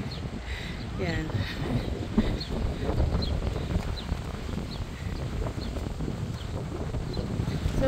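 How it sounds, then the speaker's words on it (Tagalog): Steady wind buffeting the microphone on Shelly Bay Beach in Bermuda, a continuous low rushing roar that runs the whole time, with voices talking faintly underneath. "Hindi na malatag-latag kasi mahangin eh."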